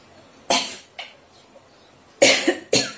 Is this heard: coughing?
yes